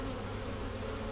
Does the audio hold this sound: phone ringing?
no